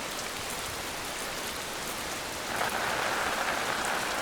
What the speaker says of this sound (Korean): 규조류의 바다에 비가 내립니다.